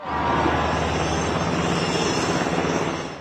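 A helicopter droning steadily overhead, a loud continuous rotor-like roar that swells slightly and then fades a little at the end.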